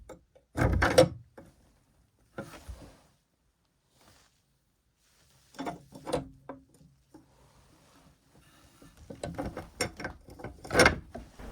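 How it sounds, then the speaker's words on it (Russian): A wooden bolt on the door of a small log cabin in a snowy forest slides and clunks shut in several separate bursts of knocking and scraping, close by and otherwise quiet. "Засов задвинут, все неважное осталось снаружи."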